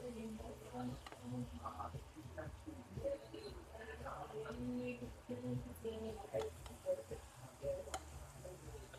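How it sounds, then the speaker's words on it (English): Filet mignon sizzling in a hot pan while being basted crackles steadily under a man's speech, with soft clinks and scrapes now and then. "You're going to hear it sizzle."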